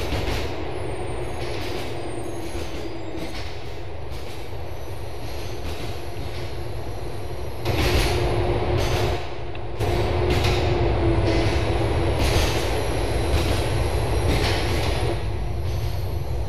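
Train ride in the video game GTA 4, set in Liberty City: a steady, loud rumble of rolling wagons with clattering wheels and brief squeals, swelling louder partway through as the carriage nears a station, with no talking.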